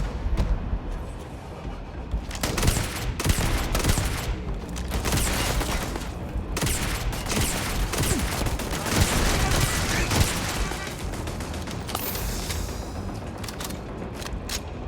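Dense gunfire from the space shooter Starfield, rapid bursts and volleys crackling almost continuously for the whole stretch, loud and close with booming impacts mixed in.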